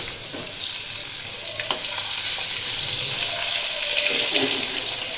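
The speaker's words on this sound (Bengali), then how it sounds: "এদিকে মাছ ভাজা করছে" Fish frying in a pan gives a steady, close sizzle and crackle that builds slightly over five seconds, with small clinks of stirring and no talk.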